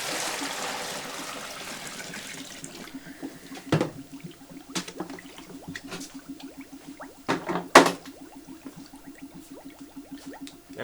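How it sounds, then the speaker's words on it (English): Sanitizer poured into an Electro Freeze CS600 soft-serve machine, starting as a rushing pour that fades into bubbling and gurgling trickles, with a couple of sharp knocks of the container in between. "with the machine off, we're just going to pour our sanitizer in."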